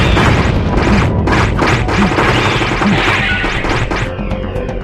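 Repeated Twin Dragons fire attacks in the action RPG .hack//Mutation land as loud, crashing bursts of whooshing flame and impacts, one after another, before fading toward the end.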